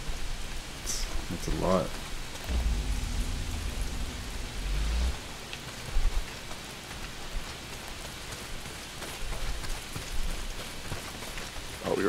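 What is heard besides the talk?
heavy rain in Days Gone video game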